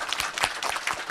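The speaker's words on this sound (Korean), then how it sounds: "발표자 선생님들께 큰 박수 한번 부탁드립니다" Scattered applause from a forum audience honoring the day's presenters at a Jeju 4·3 peace forum, a brief burst of moderate clapping with uneven, overlapping claps.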